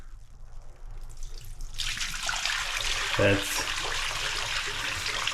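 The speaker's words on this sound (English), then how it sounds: "So I decided to soak the seat belts in some purple power degreaser." Old Falcon seat belts soak in a 50-50 mix of water and dark purple degreaser as liquid pours and rushes steadily into a container, close and loud, with a splash midway and a brief spoken word at the start.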